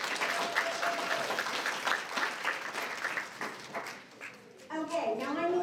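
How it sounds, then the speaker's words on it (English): An audience claps for volunteers at a bubble-machine show, a lively, uneven patter of applause that fades briefly before a voice speaks over the tail end. "let's give them a round of applause."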